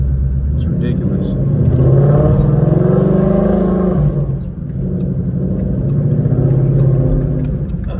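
A 2016 Ford Mustang GT rumbles with a deep, loud exhaust note that swells and eases in waves, heard close by while someone talks over it.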